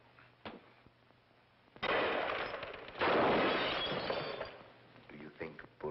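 Gunfire and shattering bursts from a 1948 mystery film, The Amazing Mr. X, erupt loudly around two and three seconds in over a quiet backdrop with faint dialogue, then fade back to low room tone.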